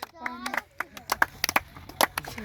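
Sharp hand claps in a village setting, struck one by one in a loose beat between voices counting aloud, close and fairly loud.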